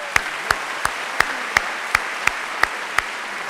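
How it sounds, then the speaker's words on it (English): At a high school graduation ceremony in South Windsor, a crowd applauds, loud and close, with sharp single claps repeating in a steady rhythm about three times a second. "One more round of applause."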